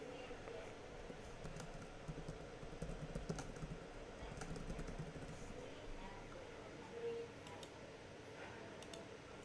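Quiet, scattered clicks of typing on a computer keyboard in a room with a low background hum, the keystrokes faint and irregular.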